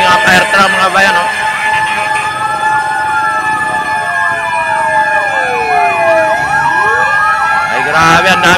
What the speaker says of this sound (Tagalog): ang daming fire truck dahil may nasunog na naman dito banda sa pier